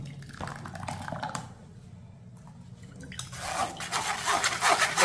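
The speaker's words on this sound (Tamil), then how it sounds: "ஒரு வடிகட்டியில் வடிகட்டிக்கிடுவோம்." Blended ginger and carrot juice pouring and dripping through a kitchen strainer, with wet squishing and a steady liquid trickle that grows louder toward the end, close up.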